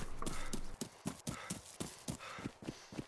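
Running hooves of a cow in DayZ, a rapid clip-clop gallop of sharp, evenly spaced thuds, close and loud, with no talk over it.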